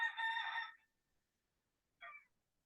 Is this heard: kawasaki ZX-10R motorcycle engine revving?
no